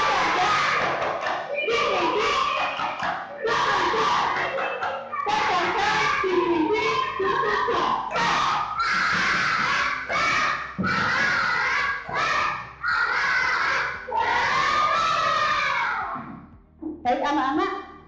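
Classroom of children doing a rhythmic spirit clap chant, loud group voices shouting in unison with steady thudding claps through most of the stretch, close and energetic.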